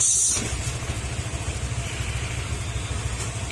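A Honda Click scooter engine idles steadily nearby, a low, even putter with a regular pulsing rhythm after a brief higher-pitched noise at the start.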